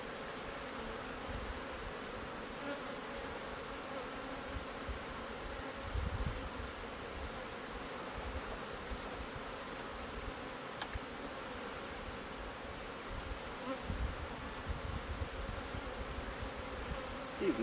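Bees buzz steadily and continuously around cheap wooden top bar hives with observation windows, a dense, close swarm drone filling the whole stretch with no talk.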